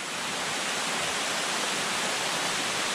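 Fikong Falls waterfall roaring in a steady, dense rush of broadband water noise, close and constant with no voices.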